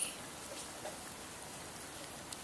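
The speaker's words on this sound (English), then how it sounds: "But it's been raining all day." Steady rain falling on a gray afternoon, a soft even hiss with faint scattered drops, heard alone without voices for the whole stretch.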